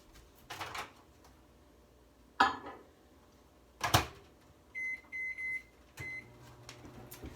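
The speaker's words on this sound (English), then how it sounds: "put it in your microwave. I did mine for about 3 minutes." Kitchen clatter and a door thud, then a series of short electronic beeps followed by the steady low hum of a microwave starting to run.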